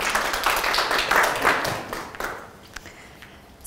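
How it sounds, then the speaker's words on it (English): Audience applause after a business development talk, a burst of clapping from a room of people that starts full and thins out toward the end with a few scattered claps. "Round of applause."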